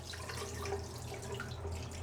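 Liquid poured out of a film developing tank, heard as a faint, continuous splashing trickle over a low steady hum in a home darkroom.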